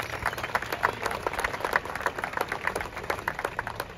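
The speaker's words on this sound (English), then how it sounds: "Let's give them all a big round of applause." Audience at a train station re-opening applauding, a dense, steady patter of many hands clapping at close-to-mid distance, sustained and even for the whole stretch with no voices over it.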